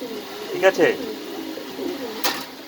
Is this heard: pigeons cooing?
yes